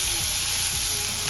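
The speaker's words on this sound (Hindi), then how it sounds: "तो तेल बच गया, उसमें इस प्याज को हम हल्का हल्का भून लेंगे" Onion sizzling and frying in leftover oil for a hotel-style egg curry, a continuous close hiss of hot oil with faint stirring and no talk.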